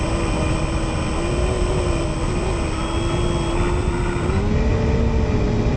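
Engine of an RC J3 Cub model airplane flying a touch and go over marshland, a steady buzzing drone whose pitch shifts gently with throttle changes, clear and continuous with no voices.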